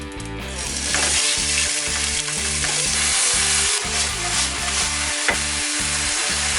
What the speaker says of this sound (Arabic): شويه زيت، ننزل باللحم